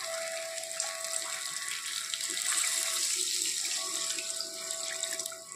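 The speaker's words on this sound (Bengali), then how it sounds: "এখন দিয়ে দিব ঝোল।" Water pours steadily into a pot of browned, well-fried chicken to make a thin Bengali curry broth, a continuous splashing rush heard up close with no talking.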